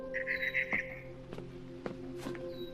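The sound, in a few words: barn swallow chirping outside window, video game What Remains of Edith Finch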